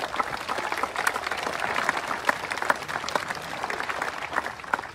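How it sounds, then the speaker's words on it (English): A crowd at a university protest march applauds steadily for about five seconds, dense overlapping claps at moderate loudness with some cheering voices mixed in. "round of applause"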